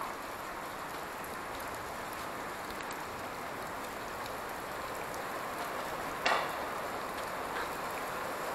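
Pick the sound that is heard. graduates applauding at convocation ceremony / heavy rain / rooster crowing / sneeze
heavy rain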